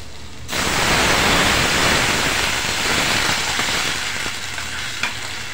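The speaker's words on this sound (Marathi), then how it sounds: "आता या ठिकाणी आपण पाणी घालणार आहे ग्लासभर" A glass of water hits a hot pan of cooking raw mango and sets off a sudden loud hissing sizzle, which then settles into a steady bubbling fry.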